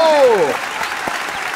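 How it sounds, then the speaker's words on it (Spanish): Studio audience applause on a vallenato interview show, clapping rising as a sung or musical tone fades away at the start, then continuing as a steady patter. "aplauso!"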